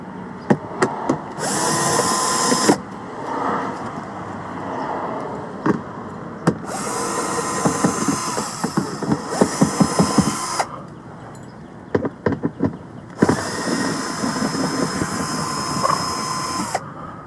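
A power tool undoing the 8mm bolts of a BMW Z4 bumper, loud whirring bursts of a few seconds each, separated by clicks and handling clatter, close up.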